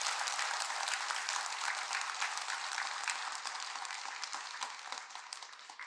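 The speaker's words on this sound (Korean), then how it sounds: "우리 박수 한번 쳐주세요." Audience applause at a Buddhist dharma assembly in a temple, a dense even patter of many hands clapping that gradually fades toward the end.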